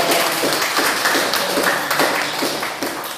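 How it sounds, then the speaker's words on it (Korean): A crowd at a Sunday church service applauds, many hands clapping together in a dense, steady patter that fades slightly toward the end. "박수로 환영하겠습니다."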